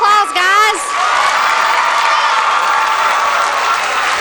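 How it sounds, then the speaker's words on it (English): Crowd applause and cheering at a Pigeon Forge Tigers sports show, a steady wash of clapping after a brief shout at the start. "Let's give a round of applause, guys."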